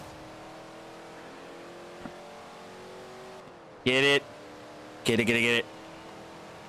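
Car engine in the Forza Horizon 2 racing game, set in Italy, revving hard in two loud bursts of rising engine tone over a steady background drone, with someone talking briefly.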